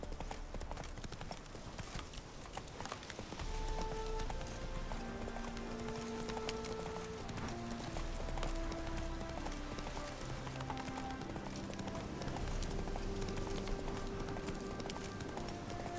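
The horse Roach galloping in The Witcher 3, a continuous rhythmic patter of hooves under sustained game music with soft melodic tones, steady and moderately loud throughout.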